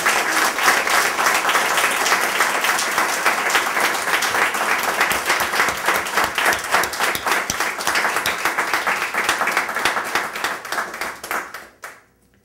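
A conference audience applauds steadily and loudly to thank a speaker, many hands clapping in a dense, even wash that fades out over the last second.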